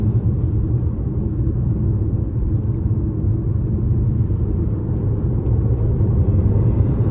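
A 2023 Jeep Renegade 1.3 turbo accelerating on a highway, a loud steady low rumble of engine and road noise heard from inside the cabin, with no talk over it.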